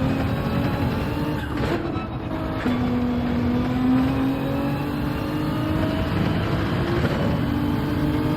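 A race car engine in Gran Turismo 7 revs and accelerates, its rising tone climbing steadily through a gear with a brief shift, loud and continuous, with another car's engine mixed in during a daily online race.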